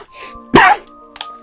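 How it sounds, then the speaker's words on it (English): A man coughs and clears his throat close into a microphone, one sharp, loud cough-and-clear burst followed by a smaller throaty rasp, with no talking around it. "the coughing comes on the more I talk"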